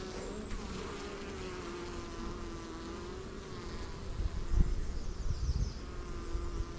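Honey bees hum steadily around open hives during an inspection of new foundation and comb, a continuous near buzz with a brief louder rustle midway.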